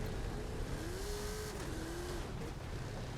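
Oldsmobile engine in Forza Horizon 5 revving steadily up toward redline, a continuous rising engine tone carrying through with a constant drone and no pause.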